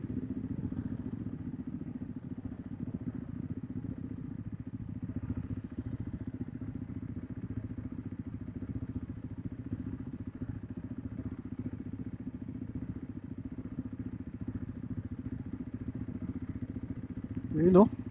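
A motorcycle engine idles steadily with a low, rumbling throb throughout, ending in a brief sharper rev or clatter.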